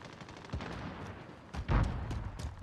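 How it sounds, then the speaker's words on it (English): Gunfire in a multiplayer shooter video game: scattered distant shots and short bursts, a louder burst in the middle, all fairly faint against steady background noise. "They're shooting over at me."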